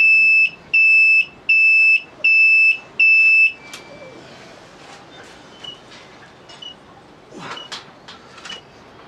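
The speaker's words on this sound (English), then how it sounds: "Hear that bleeping?" A Lifan Earth Dragon 125 motorcycle gives five loud, evenly spaced electronic beeps, each about half a second long, close by. Quieter clicks and handling noises follow.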